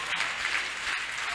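A church congregation claps together in steady, dense applause at a night worship service, a continuous crowd sound with no clear pauses across the short stretch.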